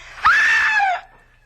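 A woman lets out a single loud, sustained scream lasting under a second, close and alone, then it cuts off into quiet, in an old radio drama scene.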